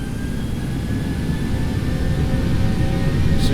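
Default Boeing 737 in X-Plane 11 with its jet engines spooling up for takeoff: a steady, loud, broadband roar with a low rumble that holds constant throughout, no voices.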